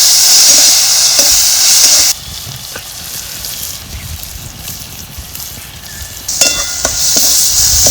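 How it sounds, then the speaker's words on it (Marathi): Green chillies for chutney sizzle and fry in a pan, with stirring scrapes. The loud hissing sizzle drops away for several seconds and then returns strongly, with occasional clinks. "ही चटणी आपल्याला हिरव्या मिरच्याची चांगली परतून घ्यायची."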